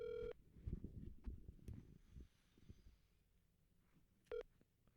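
Touch-tone phone dialing ahead of a late-night call, with a short run of key beeps at the start followed by rustling and low handling noise, then one more isolated tone near the end.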